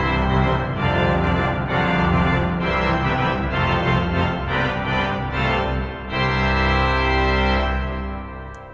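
A 1906 Felgemacher pipe organ plays full, sustained chords with the trumpet stop and couplers drawn, loud and rich, with rhythmic chord changes and a brief lift in the final bars.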